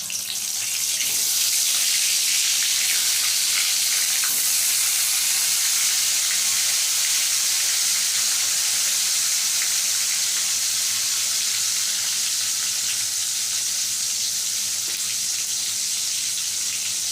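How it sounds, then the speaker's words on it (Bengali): Pointed gourd (parwal) slices fry in hot oil with a steady, dense sizzling hiss that holds evenly close by throughout, with no talking. "বাকি পটলগুলো এইভাবে ভেজে নেব।"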